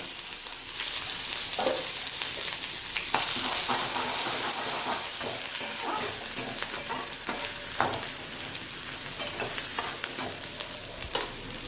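Dried chilli, bay leaf and ginger paste tempering in oil for dal, a continuous close crackling sizzle broken by occasional stirring clicks and scrapes, without speech.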